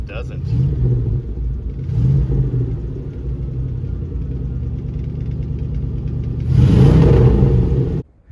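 The engine of a 1973 Ford Mustang Fastback, left rotting in a yard for 30 years, rumbles at idle with uneven low revs, then surges in a louder rev before cutting off; voices talk over it.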